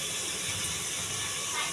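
Dry chili powder masala sizzling and hissing in a hot pan for chicken rezala, a steady soft frying hiss with no voice over it.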